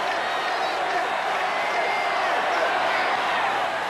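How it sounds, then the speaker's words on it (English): Stadium crowd at a 1985 World Series baseball game in Kansas City, a dense, steady roar of many voices sustained throughout, with chanting blended into the broad crowd noise. "Crowd chanting Charlie, Charlie with a count of 2-2 and nobody out."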